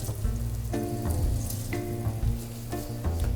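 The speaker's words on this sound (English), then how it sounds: "So heat it up and put your vegetables inside" Vegetables for beef bourguignon sauté in a hot pan with a steady, close sizzle. Stirring scrapes and clatters at intervals, and a low hum sits underneath.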